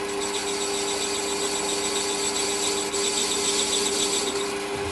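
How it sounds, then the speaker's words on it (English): Metal tube end being faced to length and chamfered on a lathe for a track day car upgrade, a steady continuous cutting whine with tonal hum running throughout, fairly loud and with no talking. "So, just face it to length, little chamfer on the end."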